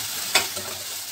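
Vegetables and onion frying with salt in a pan for a bun chicken sandwich: a steady, close sizzle with one brief stirring scrape partway through.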